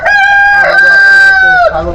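A rooster on a tiger chicken farm in Magura, Bangladesh lets out one loud, close, drawn-out crow lasting nearly two seconds, clear and sustained with a falling tail at the end.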